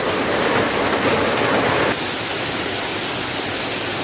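Rain pours steadily onto trees and leaves in a Thai garden, a dense, even hiss that stays loud and close throughout, slightly softening in tone partway through.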